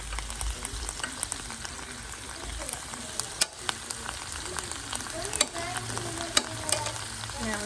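Chicken sausage stir fry with onion simmering in a pan, a constant close sizzle punctuated by sharp clicks and scrapes of stirring, with a voice faintly present underneath.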